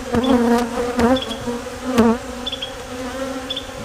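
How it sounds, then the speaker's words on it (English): Honey bees buzzing close by during a hive inspection of a post-mite-treatment colony, a steady shifting drone with wavering pitch as individual bees pass near, heard alone without talk. "these bees are some ugly bees"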